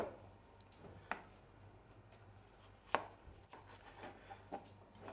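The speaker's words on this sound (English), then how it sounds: "let's chop the onions" Onions are chopped on a board with sparse, uneven knife strikes, a few sharper thuds standing out over a quiet room, heard close without talk.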